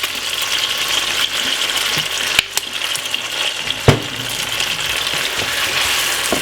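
Carrot, onion and dry thyme fry for Jamaican brown stew chicken, giving a loud, continuous close-up sizzle with a couple of brief scraping knocks from stirring.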